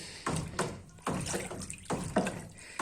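A liquid fabric softener mixture is stirred vigorously in a container, giving repeated rhythmic sloshing swirls close by.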